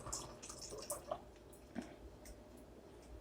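Water falls into a bottle during a hydrostatic pressure science experiment, heard as faint, sparse drips and small splashes scattered over a quiet background hiss.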